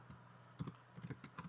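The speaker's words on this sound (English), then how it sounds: "in this you just type Android Studio" Keys tapped on a computer keyboard while typing a search for Android Studio, a short run of soft, close clicks in an uneven rhythm after a brief pause.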